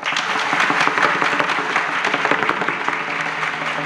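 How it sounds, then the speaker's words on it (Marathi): Loud, sustained applause from an audience honouring the More family at a kirtan gathering celebrating a birthday, dense continuous clapping filling the whole stretch without pause. "एकदा या मोरे परिवारासाठी जोरदार टाळी वाजवा."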